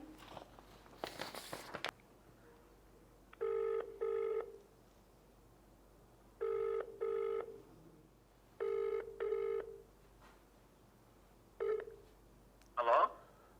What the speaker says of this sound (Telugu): ఆయనకు ఒకసారి కాల్ చేద్దాం